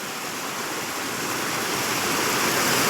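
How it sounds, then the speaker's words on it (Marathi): Water pours steadily into a muddy village stream where fish are caught. It makes a dense, continuous rushing roar that stays even and close throughout, with no voices. "इकडं मस्त पाणी पडत आहे"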